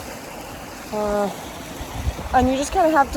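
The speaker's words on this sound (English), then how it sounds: "here's our first little waterfall crossing" A small waterfall stream on a hiking trail babbles in a steady, close wash of running water while a person talks over it.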